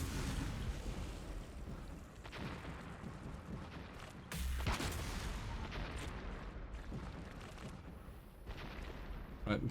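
Repeated heavy booms of a grenade launcher firing in the video game Empyrion Galactic Survival, a few dull blasts spaced out over a constant rumbling game backdrop, with a voice talking over it.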